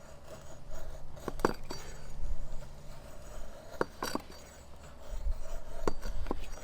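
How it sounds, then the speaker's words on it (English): A knife with a fully convexed grind, a Work Tuff Gear Night Hunter, is drawn along wood in quiet, intermittent scraping strokes, with a few sharper rasping passes standing out against a low background. "Running the knife nicely down the wood."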